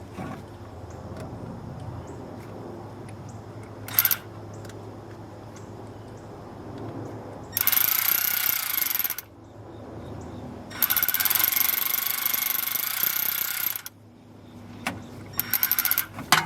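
A Milwaukee power tool tightens a part on a Monte Carlo CL, with two sustained loud bursts of whirring and hammering close by, plus a brief clunk earlier, set against quiet background noise.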